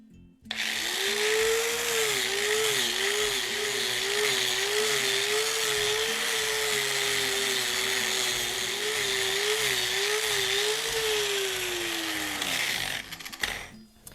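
A power fleshing tool whirs steadily on an elk hide, a loud motorized drone with a wavering pitch that holds for about twelve seconds before winding down, with faint clatter at the start and end.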